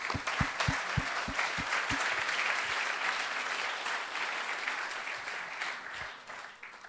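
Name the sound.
applause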